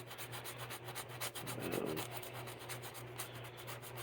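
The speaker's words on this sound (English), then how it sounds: "try to get it to where you guys can see as I'm sanding away" Steady rhythmic rasping of sandpaper rubbing back and forth on wood, fairly quiet and continuous, with a faint hum underneath.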